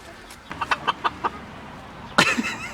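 Luxury hens clucking close by, a run of six short rhythmic clucks followed by a louder, sharper squawk, with quiet background between calls.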